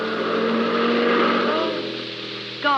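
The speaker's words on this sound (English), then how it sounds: "Oh, Peter, there's the car." A car drives past in a radio drama, its engine droning steadily close by before fading away, with a brief squeal-like sweep near the end.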